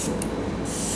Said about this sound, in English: I did 5 vertical sprays, and I like to do 1 horizontal just around my eyes